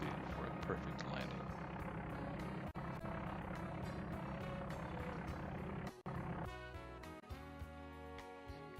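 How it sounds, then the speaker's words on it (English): Inside an aircraft cockpit on final approach and landing, a dense, steady engine and airflow roar fills the cabin and shifts in tone near the end as it touches down, while a voice talks over it. "Here we're turning in on our final approach, and Captain Diebel brings us in for a perfe"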